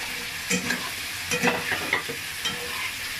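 Eggs stirred into a frying spice masala over high heat, with spring onion stalks: an even sizzle broken by several scraping stirring strokes in short bursts, close and fairly soft, without any talking.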